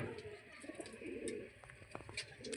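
Old-generation Giribaj pigeons give faint, low coos, with a few sharper chirps near the end.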